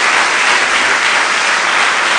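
Loud, dense applause from a church congregation clapping for Jesus, a steady unbroken wash of many hands that stays level from start to finish.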